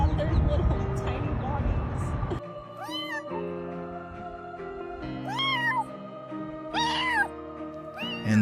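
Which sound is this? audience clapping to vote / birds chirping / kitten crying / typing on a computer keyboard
kitten crying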